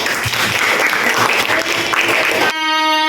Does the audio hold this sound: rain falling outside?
no